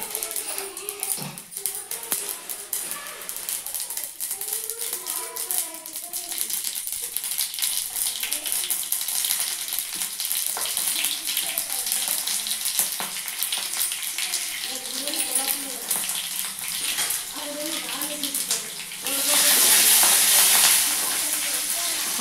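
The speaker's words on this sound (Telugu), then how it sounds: "ఆవాలు జీలకర్ర వేసాను" Mustard and cumin seeds sizzle steadily in hot oil for aubergine curry, a constant loud crackling hiss throughout, with brief faint voices in the background and a louder burst near the end.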